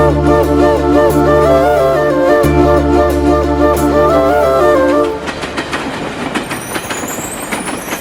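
A moving train rumbles steadily in a dubbed action film, a loud sustained drone with rhythmic clatter that shifts abruptly into a rougher, clattering passage of wheels on track.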